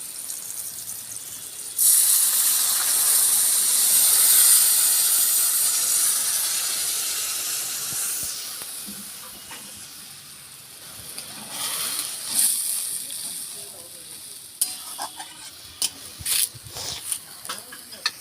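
Milk poured into medium-fried pointed gourd in a hot pan for pointed gourd malai curry, setting off a loud, steady hiss and sizzle that gradually fades, followed by intermittent stirring clatter.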